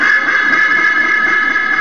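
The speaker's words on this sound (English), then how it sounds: "our pair of seagulls here talk all the time, and they sound like this" A seagull calls over and over in loud, honking, goose-like cries, close by and steady for the whole stretch with no talk over it.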